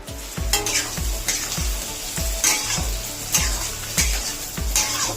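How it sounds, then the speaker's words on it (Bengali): Carrots fry in a little hot oil in a kadai, a steady sizzle broken by regular scraping strokes as they are stirred, close and clear with no talking. "গাজরটাকে হালকা করে নেড়ে ভাজা ভাজা করে নিতে হবে"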